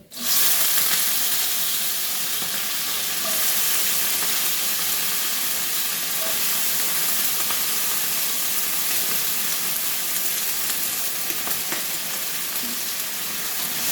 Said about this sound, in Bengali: এবার আলুগুলো আমি ভাজতে থাকবো। আলুগুলোকে বেশ ভালো করে লাল লাল করে ভেজে নেব।